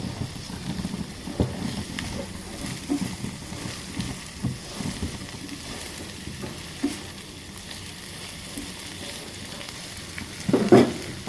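Round-sliced okra with turmeric and salt is stirred in a pan, producing a low, uneven sizzle with scraping and shuffling from the spatula and a louder clatter near the end.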